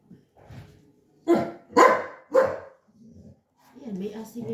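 A dog barks three times in quick succession, loud and close, with a voice talking briefly before and after the barks.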